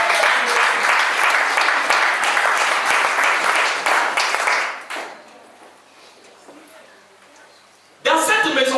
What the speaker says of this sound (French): acclame fort le Seigneur Jésus